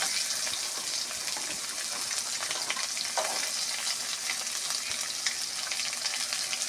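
Bitter gourd and potato fry together in a pan, giving a loud, continuous sizzle with scattered pops and crackles, close up and free of talk.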